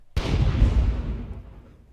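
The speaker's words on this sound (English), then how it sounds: "that's pretty much the main explosion" A loud, redesigned explosion effect for the anime Demon Slayer hits with a sharp onset, then a heavy low rumbling body that decays steadily over nearly two seconds, with no other sounds present.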